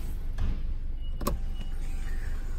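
The power sunroof of a 2018 Honda Accord closes, a faint motor whir over a quiet hum, with a sharp click or thump near the middle and a softer one after.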